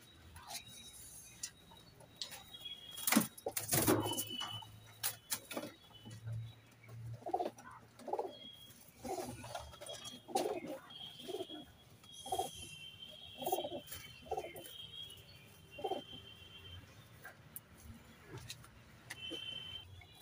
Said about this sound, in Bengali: আর এটা হচ্ছে নর পায়রা, এটা হচ্ছে মাদি পায়রা